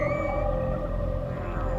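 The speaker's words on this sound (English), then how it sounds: "The low, resonant melody of a whale song is one of the most distinctive noises imaginable." Whale song sounds as a low, resonant, sustained tone with a steady drawn-out melodic hum, loud and continuous with no talking.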